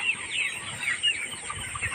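Layer hens cluck in a steady, overlapping flock chatter, with short high calls popping out of a constant farmyard hum, with no voices.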